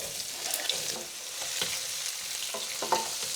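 Onions and cumin seeds sizzle steadily in a pan with a bright hiss, punctuated by a few stirring clinks and scrapes, close and fairly loud with no one talking.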